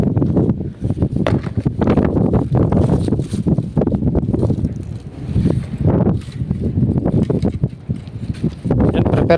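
Strong wind buffets the microphone on a small fishing boat out at sea, a dense, continuous low rumble that swells and dips in gusts throughout.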